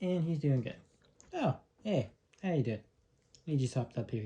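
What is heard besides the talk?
No everyday noises stand out.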